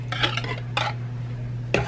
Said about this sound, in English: I'm gonna add all of this lemon juice. Okay, it was lemon juice from 5 lemons. Whisk it together.